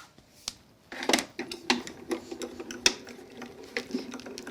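A card on a tan mat is cranked through an embossing machine for a die-cut poppy frame craft, producing close, rhythmic ratcheting clicks and knocks that continue steadily with no talking.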